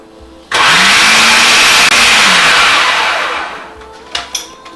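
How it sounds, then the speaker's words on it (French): A food processor motor whirs up loudly and abruptly, puréeing food and running at a steady high pitch for a few seconds, then winds down, followed by a couple of faint knocks. "On vient mettre ça sur le robot. Et maintenant, on en fait une belle purée."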